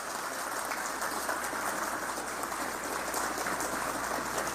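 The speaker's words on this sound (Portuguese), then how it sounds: "Uma salva de palmas ao nosso querido irmão Ildebrando Maciel." A seated audience at a Portuguese-speaking religious gathering claps to honor a man for his service to the city. The applause is a dense, steady wash of many hands that holds evenly throughout, with no voices.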